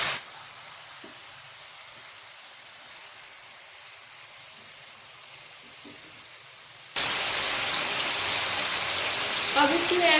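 A pan of chicken karahi being lightly sautéed stays nearly quiet at first, then bursts into a loud, even sizzle for the final few seconds.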